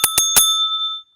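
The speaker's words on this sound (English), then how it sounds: "There's nothing serious about the bell. It's a bell." A small metal bell struck three times in quick succession, bright and close, the last strike ringing out with a long shimmering decay into silence.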